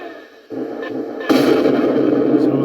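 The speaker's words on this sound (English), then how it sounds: "So there's gunfire at the top." Gunfire sound effect from a 1/16 scale Tamiya Leopard 1A4 RC tank: a quiet opening, then a rising electronic boom and a louder blast, both ringing on steadily to the end.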